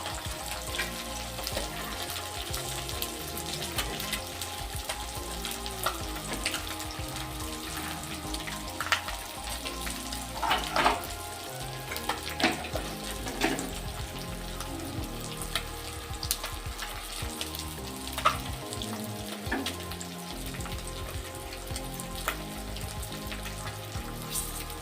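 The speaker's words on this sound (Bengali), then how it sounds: "এবার বেগুনটা আমি ভাজবো।" Eggplant slices salted and dusted with turmeric frying in oil in a pan, a steady close sizzle and crackle with brief clinks and stirring sounds running throughout.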